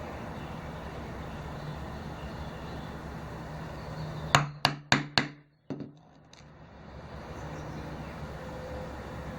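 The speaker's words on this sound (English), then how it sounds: "I'll just start them here and chisel them in." A chisel is struck to punch stitching holes in leather laid over scrap leather, giving four sharp, loud, evenly spaced blows in quick succession followed by one lighter knock, against a steady background hum.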